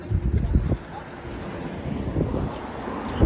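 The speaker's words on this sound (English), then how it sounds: "Still very windy." Strong wind buffeting a microphone at Hampton Beach, New Hampshire, with low rumbling gusts that swell and ease over a constant roar from the ocean.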